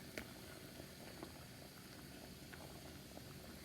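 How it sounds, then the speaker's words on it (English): Grits simmering on low heat in a covered pot give off a faint, steady bubbling and gentle boiling hiss that continues throughout, with no voices. "As you see, it's coming to a boil."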